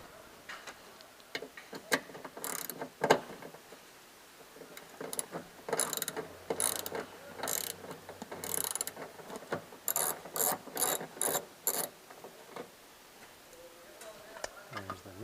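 A hand ratchet clicks in quick bursts while undoing the nut that holds a window gusset on a Subaru Forester, close up, with pauses between runs of ratcheting and no talk.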